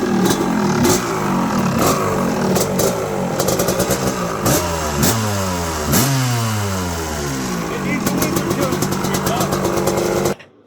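Old two-stroke dirt bikes, including 1980 and 1985 IT models that have sat unused, are kicked into life and revved hard, their engines rising and falling in repeated loud blips close by, with people talking over the noise.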